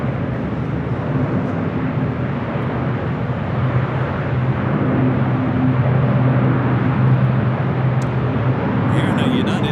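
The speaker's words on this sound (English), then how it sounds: "Here in a United Dreamliner, touching down 25 left on the south." A United Airlines Boeing 787-10 Dreamliner touching down on runway 25L at LAX, a loud steady roar of jet engines and rushing air that holds through the whole stretch, heard at a distance with no voice over it.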